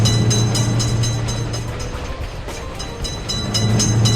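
A train rolls through a level crossing where a gate lifts to open or close the road to cars, a steady near rumble of wheels and wagons that eases slightly midway and swells again, with no voices over it.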